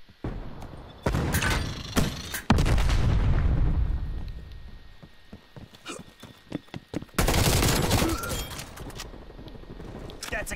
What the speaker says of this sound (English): I use a Molotov.